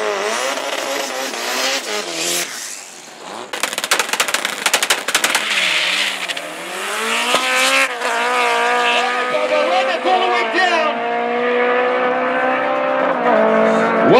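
A normally aspirated Opel Superboss drag car makes a loud run at a drag strip: the engine roars and rises through its gears, with rapid gunfire-like crackles and a brief tyre squeal, and an announcer talks over it.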